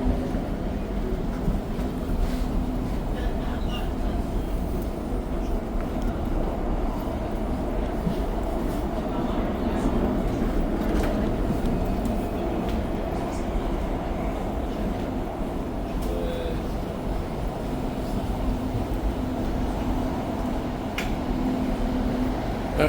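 A REM light-rail train runs from Central Station toward Brossard, a continuous loud rumbling drone of wheels and motors heard from inside the car, steady for the whole stretch with no voices.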